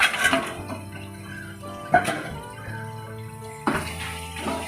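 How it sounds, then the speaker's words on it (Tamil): Small crabs being washed with turmeric under a running tap, close by: water splashes and trickles steadily while several sharper sloshes break through as the crabs are rubbed and turned in a bowl. "நான் மஞ்சள் போட்டு நல்லா வாஷ் பண்ணி வச்சுக்கிறேன் சுத்தமாக."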